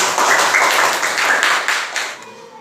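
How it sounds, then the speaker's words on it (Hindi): A classroom of students applauds during a maths lesson, a loud burst of many hands clapping steadily for about two seconds before tapering off. "ताली बजा दीजिए इनके लिए।"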